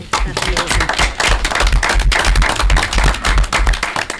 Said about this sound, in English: I think we can give an applause for that one